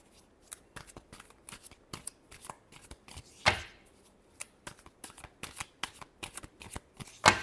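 Tarot cards being shuffled by hand, a long run of quick papery riffles and soft slaps in an irregular rhythm, close and clear, with a couple of sharper louder snaps along the way and no talking.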